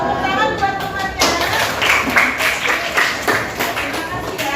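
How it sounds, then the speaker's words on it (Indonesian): Classmates clapping for a group of students in a classroom, starting sparse and becoming a fuller, uneven round of hand claps close by, with some thuds and faint voices mixed in. "Tepuk tangan buat temannya."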